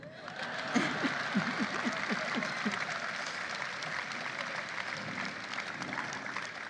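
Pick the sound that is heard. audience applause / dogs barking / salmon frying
audience applause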